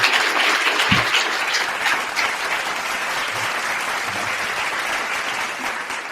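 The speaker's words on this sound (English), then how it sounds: "I think you deserve a big round of applause for that" Steady audience applause fills a commencement ceremony hall for an icstars Kansas City graduating cycle: dense, continuous clapping from a large crowd at even loudness, with a brief low thump near the start.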